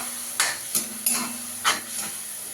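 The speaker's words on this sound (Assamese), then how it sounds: "এতিয়া ইয়াতে মই এনেকৈ বইল কৰি মেলি লোৱা মেগীখিনি দি দিছোঁ" Boiled Maggi noodles are stirred in a pan: about five distinct scraping strokes in an uneven rhythm over a soft, continuous sizzle.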